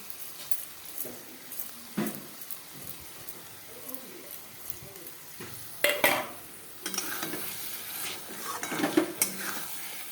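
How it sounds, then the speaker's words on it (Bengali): Rice being fried and stirred in a pan for fish-head muri ghonto, with a steady low sizzle and scattered scraping strokes of a utensil against the pan, growing busier and louder toward the end. "চালটা একটু ভাজা ভাজা হলে তারপরে আমি জল দিয়ে দিব"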